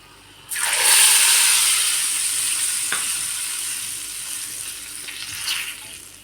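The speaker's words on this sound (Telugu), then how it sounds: "ఈ తాలింపుని ముందుగా మనం ప్రిపేర్ చేసుకున్న చింతపండు రసంలోకి యాడ్ చేసుకుంటాం" Hot tempering is poured into tamarind juice for Telangana pachipulusu, setting off a sudden loud sizzle that hisses steadily and slowly fades.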